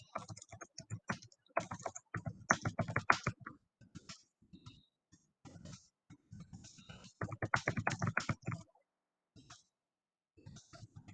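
Keys clatter on a computer keyboard in two dense bursts of rapid typing separated by a few sparse, isolated keystrokes, all close and clear with no talk.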